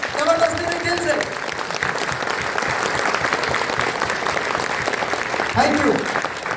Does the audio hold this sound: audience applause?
yes